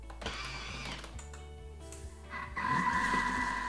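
A Thermomix running with its whisk attachment at speed 3, lid on without the measuring cup, giving a steady motor whir with rhythmic clicks that rises into a louder, brighter hum midway.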